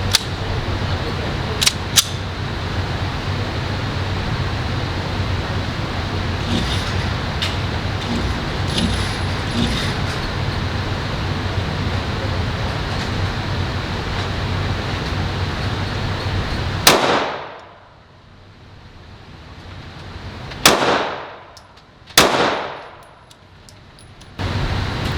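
Glock pistol fired at an outdoor shooting range, three sharp loud cracks ringing out one after another and trailing off, heard over steady wind and ambient noise.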